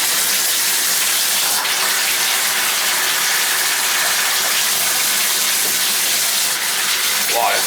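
Hot water gushing from a Moen tub shower valve with the shower head removed, a loud steady hissing rush of water spraying continuously close by.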